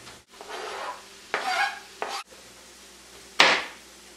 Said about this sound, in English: So I want to saute these for about 10-15 minutes until they're really soft.